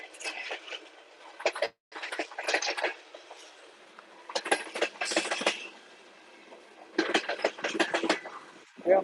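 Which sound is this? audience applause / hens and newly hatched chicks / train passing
train passing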